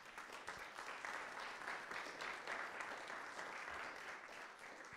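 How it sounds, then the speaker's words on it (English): A church congregation applauds its music ministry during an intergenerational service, steady moderately distant clapping that fills the sanctuary evenly without talk. "Let's give them a round of applause."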